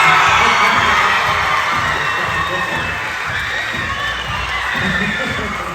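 An audience at a school musical theater show cheers and applauds a vocal instructor, loud continuous clapping with shouts and whoops from a large crowd, strongest at first and easing slightly.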